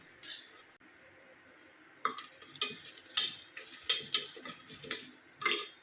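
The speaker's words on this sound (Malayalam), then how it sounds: "ആദ്യം തന്നെ ജീരകം വറുത്തെടുക്കുക ചെയ്യുന്നത്" Cumin seeds roasting in a hot pressure cooker give a quiet sizzle broken by crisp scraping stirs and small metallic ticks, mostly close and soft.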